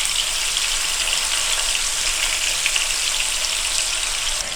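Chicken pieces fry in hot oil with curry leaves, a steady, bright crackling sizzle that is close and continuous throughout, with no voices.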